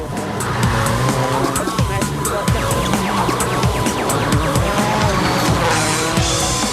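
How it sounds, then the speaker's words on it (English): Rally car on a fast gravel stage in Portugal overshoots a corner, its engine loud and revving with tires skidding and scrabbling on loose surface throughout, with faint commentary-like voices mixed in. "This overshoot cost him nearly 20 seconds as he struggled to find his way back onto the road in the dust."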